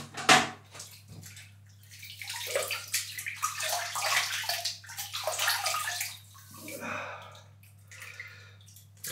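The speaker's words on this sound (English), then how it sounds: "let's wet the face and let's get lathering." Water splashed onto the face before a wet shave produces bursts of close splashing and dripping with pauses between handfuls, and soft breaths come through between the splashes.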